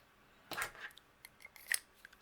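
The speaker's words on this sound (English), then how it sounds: "We're going to trim down a foam square." Scissors trim a small foam square for cardmaking, a few crisp, close snips: one firm cut, then lighter clips and a final sharp snip in a quiet room.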